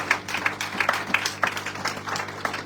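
A church congregation claps hands together during a revival and healing service, the claps sharp and fairly rhythmic, mixed with a faint murmur of voices.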